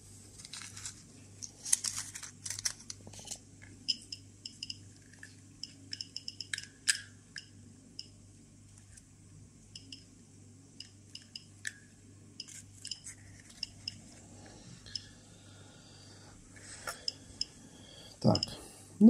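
Sharp, irregular clicks from a Geiger counter dosimeter pop out of near silence, scattered and uneven, registering natural background radiation, with occasional faint handling sounds.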